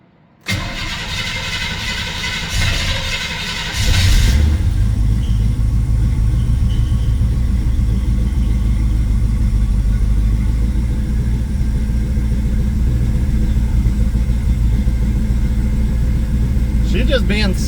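A 1968 Chevy Camaro SS with new plug wires after a misfire is cold-started: the starter cranks for a few seconds, then the engine catches with a loud roar and settles into a steady, slightly lumpy idle.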